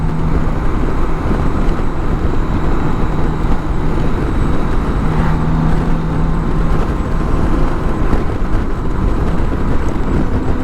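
BMW K1600 motorcycle riding at steady speed in dynamic mode, with a continuous low engine drone mixed with heavy wind rush across the whole stretch, no talking.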